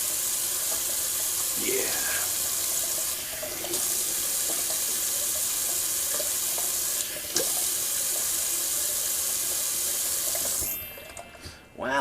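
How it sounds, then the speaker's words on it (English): A kitchen or bathroom tap runs cold water in a steady, close hiss for a shaving rinse, cutting off near the end, with a brief spoken word. "The cold water rinse."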